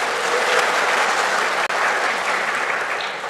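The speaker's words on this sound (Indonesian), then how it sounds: "Kita tepuk tangan dulu, tidak apa-apa." Church congregation clapping during a celebration of the men's fellowship, a loud, dense burst of applause filling the room without a break for several seconds.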